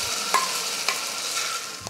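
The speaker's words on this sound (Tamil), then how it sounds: "எண்ணெய் சூடு இருந்ததுமே நம்ம பேஸ்ட் பண்ணி எடுத்த வெங்காயத்தை இதில் சேர்த்துக்கணும்." Onion paste frying in hot oil in a kadai for a Tamil-style chicken varuval, giving a steady broadband sizzle with a few soft stirring scrapes, close and moderately loud, no voices.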